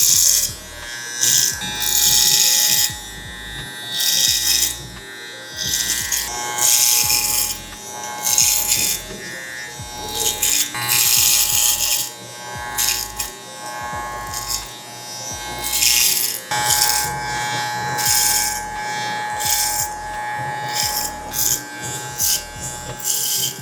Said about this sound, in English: let's attach the 3, turn on our clipper